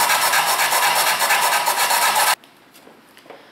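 A hand file rasps steadily on the plastic hull of an RC submarine, cleaning up cut flood holes in quick repeated strokes, then stops abruptly and leaves faint room noise with a few small clicks.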